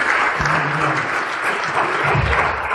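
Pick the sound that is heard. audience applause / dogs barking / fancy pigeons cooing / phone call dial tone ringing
audience applause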